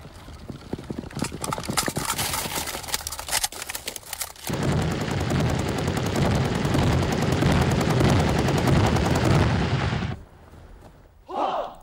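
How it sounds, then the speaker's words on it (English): Gunfire at a military shooting practice at the Chinese garrison in Hong Kong: scattered sharp shots build into a loud, dense, continuous volley that cuts off abruptly, followed by a brief final burst. "The second round of shooting now starts."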